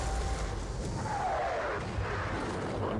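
Muffled low booms and rumble of artillery guns firing in a John Tiller Napoleonic wargame at the Battle of Eylau, a continuous dull roar of distant gunfire at moderate loudness.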